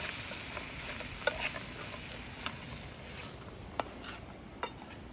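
Green plantain and quesillo mixture frying in a pan while being stirred, a constant hiss of sizzling broken by a few sharp spoon taps against the pan, close with no voices.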